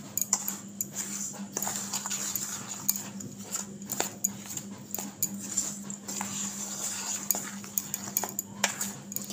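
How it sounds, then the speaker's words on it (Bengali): Malpua batter with fennel seeds being mixed in a bowl, a steady scraping and clinking of a spoon against the bowl with repeated sharp taps, close and moderately loud, with no talking. "আবার এগুলোকে মিশিয়ে নেব খুব ভালো করে।"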